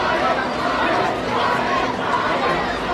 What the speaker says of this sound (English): And the crowd is chanting for him. They're all chanting Ryan.